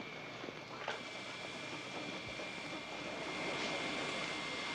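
An airplane comes in to land at an airport, a continuous distant jet engine roar that swells slightly toward the end, heard without speech.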